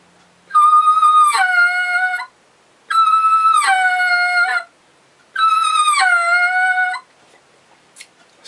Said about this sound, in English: So now you have a two-noted yelp with a single reeded call